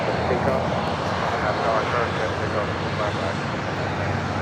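An airliner taking off from runway 25 right at LAX, a broad steady engine roar held throughout at moderate distance, with a voice talking over it.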